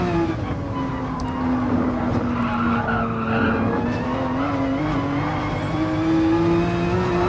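A Porsche 911 race car in GT Sport spins out, its tires skidding in a long continuous squeal over the steady roar of the engine, loud and close throughout.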